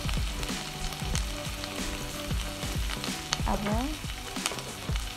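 Spice paste with turmeric and salt sizzles and spatters steadily in a hot pan for egg curry, with stirring scrapes throughout; a brief word is spoken near the start.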